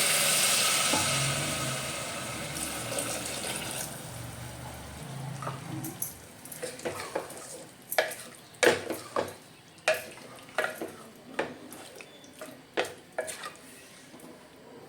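Water poured into a pot of soya chunks pulao hisses and sizzles loudly at first. It settles into a softer simmer broken by a run of quick, regular clacks from a spoon stirring in the pot.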